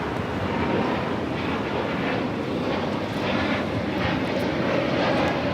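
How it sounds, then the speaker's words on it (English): Spirit Airlines Airbus A320neo taking off from Los Angeles LAX, a loud steady jet engine roar sustained throughout with broadband rumble, heard alone without voices. "This is Spirit Airlines 1190 taking off to Dallas Fort Worth on the A320 Neo"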